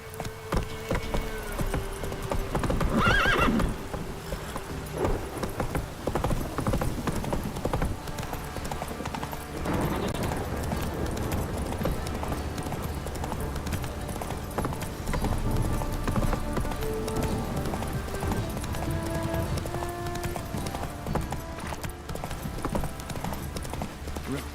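Roach the horse in The Witcher 3 galloping, steady clip-clop of hooves on ground with game music and ambience underneath, a brief whinny early on, moderately loud throughout.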